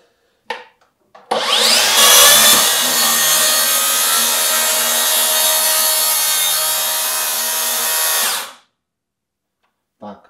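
A Makita DSP600Z plunge saw cuts wood along a guide rail. It gives a loud, steady, high-pitched whine for about seven seconds, then winds down into silence, with a few clicks before and after.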